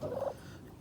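A homestead turkey gives a single short, quiet gobbling burst lasting about a quarter second, then faint ambient quiet.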